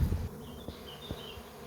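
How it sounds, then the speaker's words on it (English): Swarming bees settle onto a bush, producing a short, steady insect buzz with a few individual bees whirring past near the listener. "The bees started landing on a bush."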